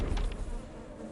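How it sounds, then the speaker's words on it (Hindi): Mosquitoes flying, a short buzzing whine that is strongest at the start and then fades under a low murmur, with no talking. "बेचारे मच्छर, भोले भाले मच्छर, कितनी आजादी से उड़ रहे थे"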